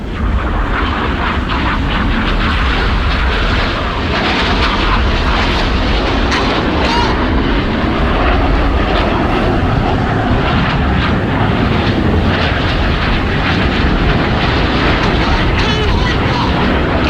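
Red Arrows jets perform a double rolls display at the Bournemouth Air Festival, their loud, continuous roar filling the air at an outdoor airshow.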